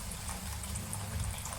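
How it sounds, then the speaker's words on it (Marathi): A small amount of water poured into vegetable curry whose masala has already cooked, a soft, faint liquid splash and gurgle over a low background hum. "आता त्यामध्ये आपण थोडंसं पाणी घालणार आहे."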